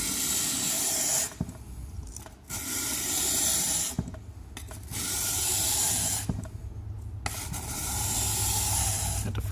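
A blade is drawn in long, even strokes across a Trilancer sharpening stone, each pass a close, steady hissing scrape separated by brief pauses, repeated several times without talk.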